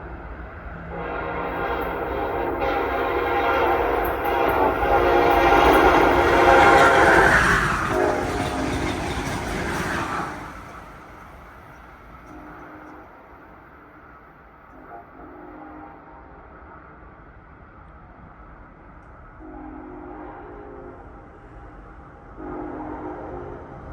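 An Amtrak power extra passes through Mansfield, Massachusetts, on the Northeast Corridor, a loud rolling roar that swells and fades, followed by fainter wheel clatter and short bursts of horn.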